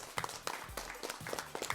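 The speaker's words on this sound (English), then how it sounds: "Round of applause. You guys did fantastic." Audience applause for the state runner-up Mountain View High School team at a 3A Quiz Bowl match, a brief, fairly faint patter of clapping with scattered sharper claps.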